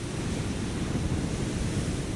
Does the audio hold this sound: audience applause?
no